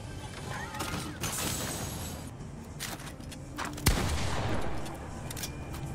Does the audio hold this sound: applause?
no